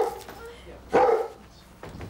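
A dog gives a single short bark indoors at a doctor's surgery, sharp and fairly close, with a muffled whimper afterward and a person's voice nearby.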